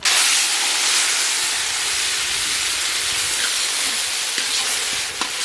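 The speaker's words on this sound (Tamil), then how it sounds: "எண்ணெய் நல்லா சூடாயிடுச்சு கருவேப்பிலை சேர்த்துக்கலாம் அது கூட இஞ்சி பூண்டு பட்டை வேக மிளகாய் எல்லாம் சேர்த்து அரைச்சி வச்சிருக்கிறோம் இதையும் வந்து சேர்த்துக்கலாம்" Curry leaves and a ground ginger, garlic, cinnamon and chilli paste hit hot oil, giving a loud, steady sizzle with a few small crackles and pops near the end, close up and with no talking.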